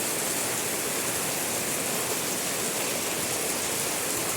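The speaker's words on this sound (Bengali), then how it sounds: "একদিকে আকাশ থেকে বৃষ্টি হচ্ছে" A downpour falls from the sky beside a swollen Jamuna river, with water being caught in buckets; a loud, unbroken wash of rain fills the whole stretch with no talking.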